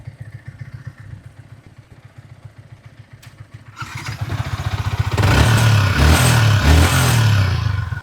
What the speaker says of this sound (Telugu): అలాగే సెకండ్ బైక్ బీట్ కూడా ఒకసారి చెక్ చేద్దాము